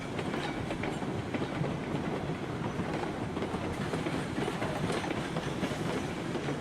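A train runs in the railroad game RailRoads Online, giving a steady, loud rolling rumble with faint clickety-clack of wheels on rail joints, continuous and close throughout with no talking.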